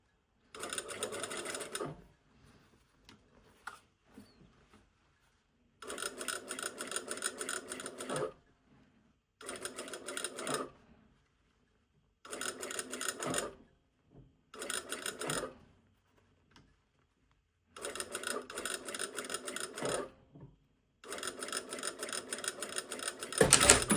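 A sewing machine stitches a neck facing onto a garment bodice in about seven bursts of rapid, whirring stitching, each a second or two long, separated by short quiet pauses.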